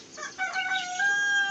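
A rooster gives a long, drawn-out crow close by, its harmonic call stretching over more than a second with no voices present.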